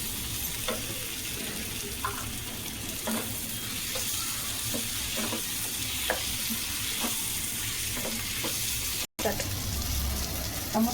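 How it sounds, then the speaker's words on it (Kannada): Tomato sizzles as it fries with mutton in a pan, a continuous crackle and hiss with occasional stirring scrapes and a brief dropout near the end. "ಇವಾಗ ಟೊಮೊಟೊ ಹಾಕ್ತಾಯಿದ್ದೀನಿ"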